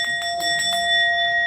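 A ringing bell struck several times in quick succession, its bright sustained tone hanging clearly and loudly over a quiet background.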